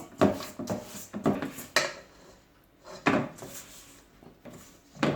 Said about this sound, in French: C'est ce qu'on appelle crémer le sucre, le beurre.